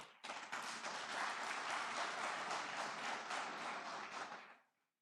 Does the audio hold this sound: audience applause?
yes